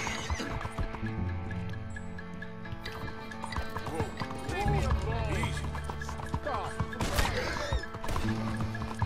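In the video game Red Dead Redemption, a horse in Saint Denis gallops with steady hoofbeats and whinnies several times amid loud game ambience, while a person talks over it.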